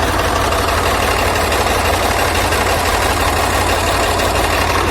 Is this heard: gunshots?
no